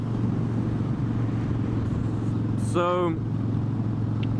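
A Harley Sportster that sat unused for six months, backfiring and needing the choke, runs with a steady low engine drone close by while someone speaks briefly over it.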